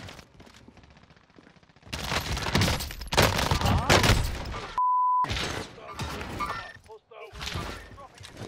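Gunfire in the video game Warzone: several loud, rapid automatic bursts, close and harsh, with short gaps between them and a brief electronic beep in one gap.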